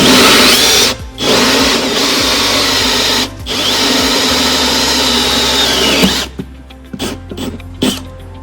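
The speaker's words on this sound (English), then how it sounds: "Now I'm going to drill the hole from 35mm hole saw." A 35mm hole saw on a power drill bores through a caravan wall, a loud whining grind that runs steadily, dips for two short pauses, then breaks into several short bursts and stops as the cut finishes.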